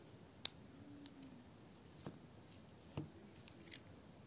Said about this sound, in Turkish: Buradan ipimi kesiyorum yine.